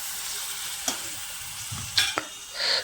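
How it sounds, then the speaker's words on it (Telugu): Kondapindi leaves sizzle in hot tempering oil, crackling steadily with a few sharp pops and stirring clinks, close by and without speech. "ఈ విధంగా కుండపిండి ఆకు తాలింపుకు రెడీ అయింది"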